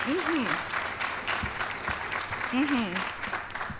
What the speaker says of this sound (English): We're gonna be hearing a lot of that applause tonight.